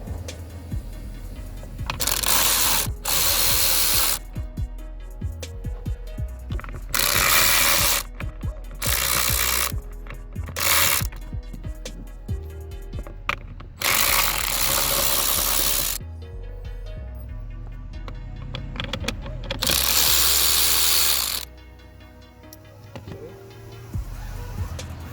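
Screws come out of the steering column cover on a 2008-2012 Chevy Malibu, with repeated loud bursts of a whirring driver separated by quieter clicks and handling noises.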